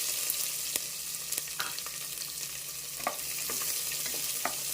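Thinly sliced onion and potato fry in oil in a pan for a drumstick and potato curry, a soft steady sizzle with occasional spoon clinks and stirring scrapes nearby.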